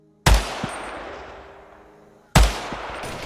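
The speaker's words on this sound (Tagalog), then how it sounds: "Sunod-sunod na putok ang pinakawalan ng mga tao doon." Two loud, close gunshot blasts, each a sharp crack followed by a long rumbling decay, fired by armed villagers at a hanging aswang during a wedding in a rebel-held village.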